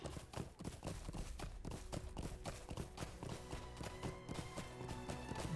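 Quick, rhythmic hoofbeats of a galloping horse in Lord of the Rings Online, drumming steadily over a low background bed of sound.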